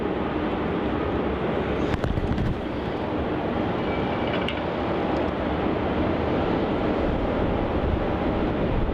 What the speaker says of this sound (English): There's that Royal Brunei 787 quickly making its way down towards runway 34, not wasting any time at all.